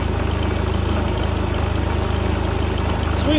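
Steady engine idle from a new Predator 3500 inverter generator on its first start, a constant low mechanical drone with even harmonic rhythm held close to the microphone throughout.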